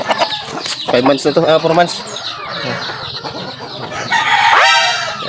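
Someone talks over a flock of young roosters clucking and cackling close by, with wings flapping and a brief crow toward the end.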